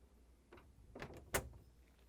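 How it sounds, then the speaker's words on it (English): Two KitchenAid refrigerator pantry drawers slide shut with soft, faint knocks, ending in one sharper click-thud, all close by in a quiet room. "Now I'm going to close this both pantry drawers."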